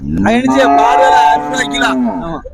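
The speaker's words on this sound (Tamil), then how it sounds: "நல்ல அழகான நாட்டு மாடு காளையா மாடு அனதி மாடு மாடு பசு மாடு பசு மாடு" Native cattle at a busy livestock market give one long, loud moo lasting about two seconds, close by and with a rough, drawn-out tone.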